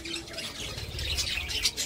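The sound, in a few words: baby pet bird squawking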